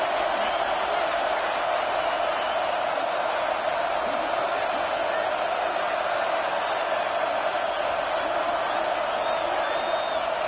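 Stadium crowd in the College Football 26 video game, a football matchup against Alabama: a dense, continuous roar of many voices with occasional whoops and cheers, steady and loud throughout, with no clear speech.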